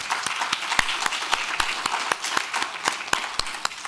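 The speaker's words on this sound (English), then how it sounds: "Let's give them a round of applause." Conference audience applauding the sponsors at an adult education summit; dense, steady clapping from a large room with crisp individual claps punctuating the wash, fairly loud and continuous without talk.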